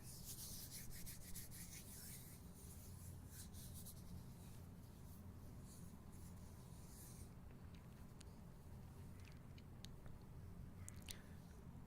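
Bare hands rub together close to the microphone in an intimate ASMR setting, giving a soft, steady, dry friction sound with brief brushing strokes and no talking.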